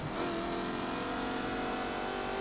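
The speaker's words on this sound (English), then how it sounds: "So this F-Type definitely sounds a lot better than Horizon 3." Jaguar F-Type sports car engine in the Forza 7 racing game, a steady sustained drone with strong harmonic tone as the car runs under throttle, continuous and moderately loud, with no talking.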